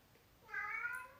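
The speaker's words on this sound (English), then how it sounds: "It's a cat and the door is closed and he can't come in and she's mad." A cat shut behind a closed door gives one clear meow, fairly quiet and slightly muffled, standing alone against a low background.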